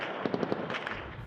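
Rapid gunfire in the streets of Khartoum, Sudan, a quick burst of four or five sharp reports over a dense background din, followed by a few more scattered cracks.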